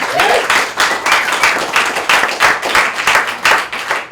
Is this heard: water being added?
no